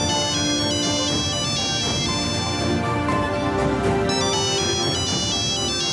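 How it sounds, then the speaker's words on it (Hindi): A melodic phone ringtone plays loudly and continuously, repeating its electronic tune with no voices over it. "ये तो असमती की फोन है।"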